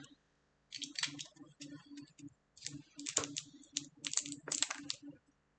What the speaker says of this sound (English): I might have to use my scissors here.